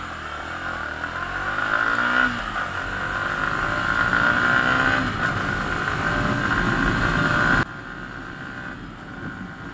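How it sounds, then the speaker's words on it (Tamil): A Yamaha XSR155 retro motorcycle revved on the throttle, giving a steady, loud engine drone that rises and swells through several seconds before cutting down sharply near the end, close by with no talking. "இந்த வண்டியோட த்ராட்டில் ரெஸ்பான்ஸ் குயிக்காக செக் பண்ணிடலாம்"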